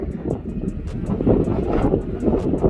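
Steady wind buffeting the microphone in the open Painted Desert along Route 66 in Arizona, a continuous rough low rumble with gusty swells, no talk.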